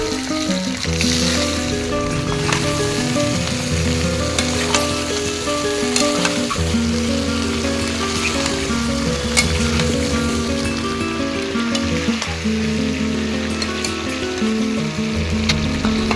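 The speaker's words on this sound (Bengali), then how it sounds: "মিডিয়াম ফ্লেমে 5 মিনিট মতো নাড়াচাড়া করে নিতে হবে, যাতে আমের টুকরোগুলো তেলের মধ্যে ভালোভাবে ভাজা হয়ে যায়" Raw mango pieces stir-frying in oil in a pan over a medium flame give a steady, continuous sizzle lasting throughout, underlaid by sustained tonal background music.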